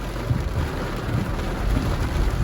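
Steady rain falls on St. James Street in Falmouth, Jamaica, on Independence Day, making a continuous soft hiss of drops with low rumbling underneath and no talking.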